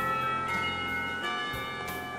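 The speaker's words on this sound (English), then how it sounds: "The bell." A school bell in the Katawa Shoujo video game rings with a sustained, resonant tone that holds steady and fades gradually over about two seconds, clear and alone.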